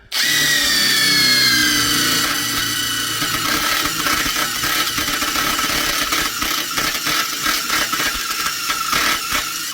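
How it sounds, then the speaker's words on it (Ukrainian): A power drill whines at high speed and grinds through 8.5 mm steel, loud and close, its pitch sagging as the bit bites and chatters. "Ну що, починаємо безпосередньо свердлити."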